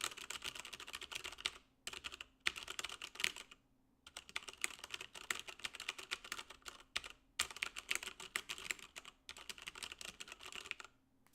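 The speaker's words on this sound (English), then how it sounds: "we have just as good keyboard sounds there." Keys clatter on a computer keyboard in fast bursts of typing broken by short pauses, close and clear with no talk.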